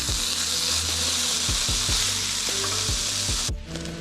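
Sausage frying on a Skottle outdoors, a loud close sizzle with regular scraping stirs through most of it before the sizzle briefly drops and resumes; nobody speaks.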